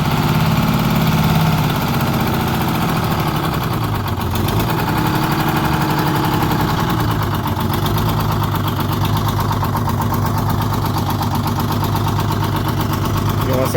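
A vehicle engine idles steadily at a curb during a rescue recovery, a continuous low rumble running the whole time with people talking over it.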